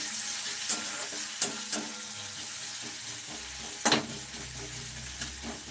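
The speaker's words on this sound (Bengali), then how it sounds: "পেঁয়াজটা হালকা ভাজা হয়ে গেছে" Onions fry lightly in a pan for a shrimp masala curry, making a continuous soft sizzle broken by occasional clicks and scrapes of a stirring spoon, close by and without speech.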